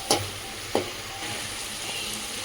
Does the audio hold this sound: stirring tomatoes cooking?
yes